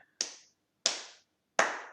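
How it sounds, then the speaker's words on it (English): Three slow, deliberate single claps spaced evenly about seven tenths of a second apart, each crisp and close with a short decay into silence. "Slow clap"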